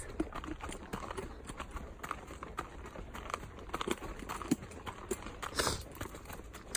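A horse's hooves clip-clop steadily at a walk while it is hacked out alone, close and moderately quiet, with irregular rustling alongside the rhythmic footfalls.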